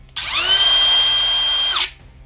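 A DeWalt cordless router motor spins up abruptly, whines at a steady high pitch for over a second, then winds down and stops quickly.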